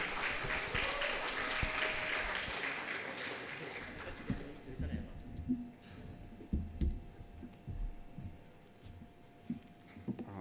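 Lecture-hall audience applause welcoming a visiting lecturer to an oceanography public lecture, loud and dense for about four seconds before thinning into scattered claps and fading under quiet room noise.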